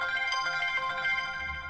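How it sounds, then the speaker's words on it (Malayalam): A woman's mobile phone rings with a steady, repeating melodic ringtone, fairly faint and heard alone without voices. "ഇതിനിടയിൽ ഭാര്യയുടെ മൊബൈൽ അപ്രതീക്ഷിതമായി ബെല്ലടിക്കുന്നു."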